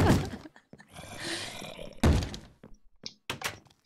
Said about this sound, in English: Someone banging on the door.